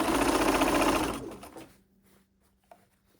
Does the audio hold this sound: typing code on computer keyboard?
no